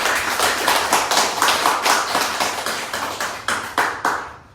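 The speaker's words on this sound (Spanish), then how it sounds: "Damos un fuerte aplauso a nuestra Santa Muerte." Applause from a gathered congregation at a Santa Muerte worship service, a dense run of hand claps that stays loud and steady before thinning into a few distinct slaps at the end, with no talking.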